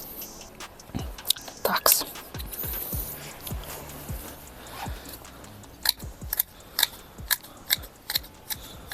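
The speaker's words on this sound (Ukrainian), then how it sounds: "працювати такими ножицями" Scissors snip bonsai pine needles in a run of sharp, close clicks, sparse at first and then quick and regular near the end, with no talk over them.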